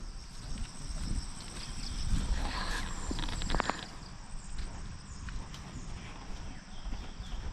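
Horse hooves clop at a slow walk against an outdoor background, with a steady low rumble and faint insect-like hiss throughout.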